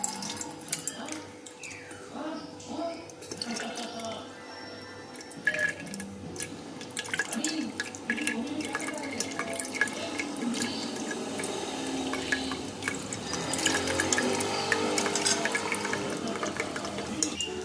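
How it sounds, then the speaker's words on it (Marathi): Warm homemade ghee made from raw milk is strained into a container, giving a trickling, dripping liquid pour with small clinks, close and continuous; a voice speaks softly at times. "आता हे तूप आहे ना एका डब्यात गाळून घेते"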